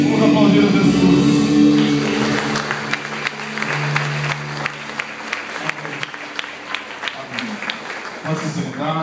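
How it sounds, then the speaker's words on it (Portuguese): A church congregation applauds while voices continue over it, the clapping building into a steady patter of individual claps under sustained singing or speech. "vamos aplaudir a Jesus."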